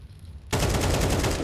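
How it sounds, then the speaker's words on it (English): Sustained automatic AK rifle fire from a Counter-Strike esports match, bursting in loud and dense after half a second of quieter background and continuing without a break to the end. "That third AK gets all the headshots."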